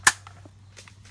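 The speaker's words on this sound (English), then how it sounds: "there's bullets going everywhere" A single sharp airsoft gun shot cracks out close by during an airsoft game, followed by faint clatter and a steady low hum.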